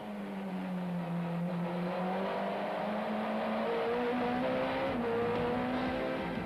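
Touring race cars at Kyalami in a 1994 championship round, a Toyota pulling alongside and overtaking a Nissan, engines droning steadily at sustained high revs with a rising pitch, faint and distant, no voices.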